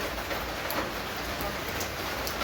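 Steady rain falls close by, a dense even hiss of drops striking a surface with no break, at a rural Lao outdoor meal of bamboo-shoot curry.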